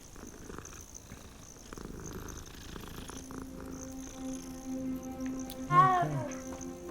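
A cat purrs in the Hogwarts Legacy video game, a soft steady rumble against faint in-game ambience, followed by a brief higher chirp near the end.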